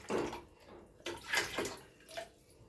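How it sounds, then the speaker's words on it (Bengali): Water runs into a pot for making tea, heard as a few quiet, splashy bursts of flow with short pauses between them. "জল নিয়ে নিলাম"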